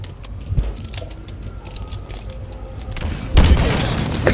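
A rocket explodes in Halo Infinite ranked arena play: a loud, close booming blast bursts out near the end, over steady background game noise and scattered thumps.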